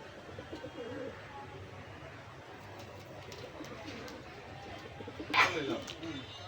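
A pair of Teddy pigeons at a pigeon sale coo softly through a steady murmur of background noise. Voices can be heard faintly in the surroundings.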